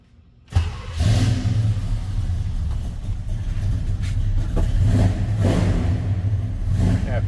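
A 1968 Chevrolet K20 4x4 truck engine cranks and fires after a brief silence, then settles into a loud, steady, rumbling idle up close with slight surges, with no talking.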